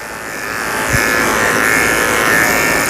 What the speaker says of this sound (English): So I'm gonna finish shaving his neck with the 7 blade.